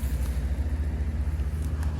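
Road traffic beside a fishing pond on a cloudy day comes through as a low, continuous engine rumble with pulsing swells, like cars passing close by, with no voices.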